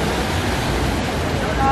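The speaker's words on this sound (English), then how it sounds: "This is our rocks and the tide with the waves." Ocean waves wash against the rocks below the Acapulco cliffs as a steady, broad roar of surf that fills the background without distinct breaks.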